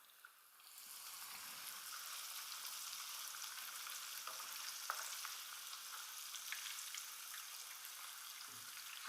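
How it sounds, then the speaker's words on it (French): Dawa, a lagoon fish, sizzles steadily in a very hot frying pan, a continuous soft hiss of frying oil with no talking. "On va se mettre tout ça dans une poêle bien chaude."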